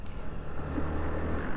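A KTM Duke 160 motorcycle pulls off on a city ride, its engine a steady close low rumble with a slight rising drone throughout.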